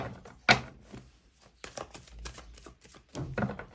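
Tarot cards are shuffled by hand in short, irregular bursts of soft flicking and slapping, quiet and close, separated by brief pauses.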